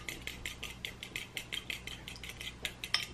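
Eggs get whisked in a bowl with a utensil, a fast, regular run of light clinking taps against the bowl's side, close up and fairly quiet.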